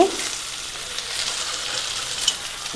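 Whole spices and green chillies sizzling in hot oil in a pan as the base for chicken biryani, a steady close crackling hiss with a few small pops, no talking.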